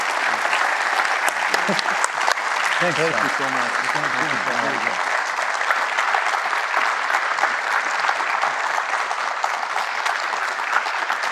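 A large audience gives loud, continuous applause to a physicist after a live talk, holding steady throughout while someone briefly speaks over it.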